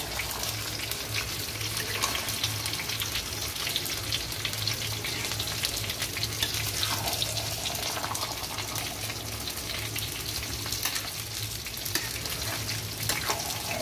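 Meat fries steadily with Kashmiri chili in a pan, a dense and continuous sizzle at moderate level with a faint low hum underneath and no one speaking.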